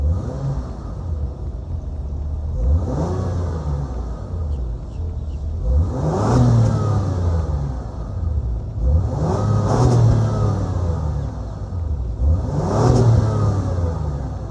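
A 2022 Acura MDX Type S with its 3-liter twin-turbo V6 starts, then revs in four strong, evenly spaced bursts that rise and fall, loud and close over a steady idle rumble.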